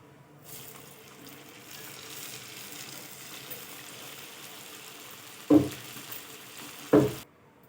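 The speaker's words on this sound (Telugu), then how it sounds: "మిగతావి కూడా మనము వేయించుకుందాము" Pea samosas deep-frying in hot oil, a steady low sizzle and bubbling that runs throughout, broken by two louder clattering bursts near the end.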